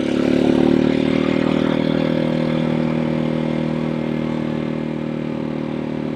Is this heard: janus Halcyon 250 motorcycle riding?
yes